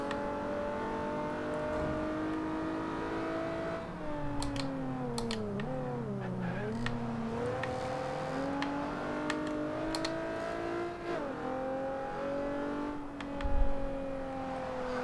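Nissan 370Z from 2010 revving in the racing game Forza Horizon 2, a steady droning engine note whose pitch rises and falls as it is pushed through a drift, loud and continuous with no talk.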